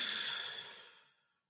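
A single slow, deep exhale during a bodyweight strength and stretching workout, soft and airy and close, fading out over about a second.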